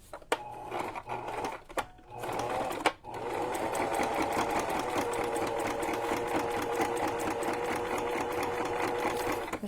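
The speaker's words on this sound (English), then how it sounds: "And then we're going to jump over to the other piece and sew the edge of that." A sewing machine stitches along the edge of a junk journal cover, starting with a few short bursts and sharp clicks, then settling into a steady, close, continuous whirring hum.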